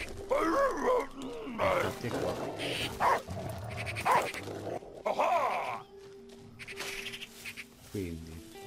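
Dog in the video game Last Day of June gives several short barks and grunting yelps, loud and close, mixed with game sounds and music.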